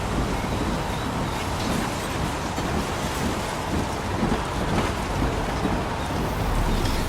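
Steady rain falls in the Heavy Rain video game, a dense, even hiss with low rumbling wind, continuous throughout and without voices.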